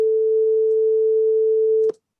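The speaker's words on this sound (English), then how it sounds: "So it says solo both the 440 and 445 hertz tones." A steady 440 Hz sine test tone, pure and constant, holds loud and alone for nearly two seconds before cutting off abruptly.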